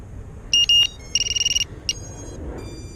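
An LED-lit 2-inch micro quadcopter beeps once its battery is plugged in, in a park at dusk: two short high tones, then a quick run of about eight beeps and one final beep, close and clear over a quiet background.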